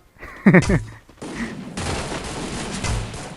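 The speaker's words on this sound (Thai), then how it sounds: "อันนี้มันยิงทีสามนัดนะทุกคน" Gunfire from a weapon that shoots three-round bursts in the Free Fire video game: a sharp, loud crack followed by a stretch of dense, rough firing noise that carries on to the end, with no one talking.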